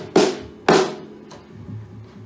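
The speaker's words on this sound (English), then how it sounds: "All snare drums have a little clutch where you can turn on the snare" A snare drum with the snares engaged, struck twice in quick succession, each hit a sharp, buzzy crack with a rattling decay, followed by a softer third tap, close and alone.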